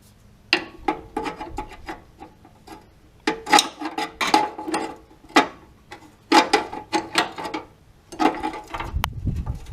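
A 7/8 wrench works a bolt on a 1988 Dodge B350 Ram van during transmission removal, giving irregular metallic clicks and rasping turns in short bursts, close and fairly loud with no talk.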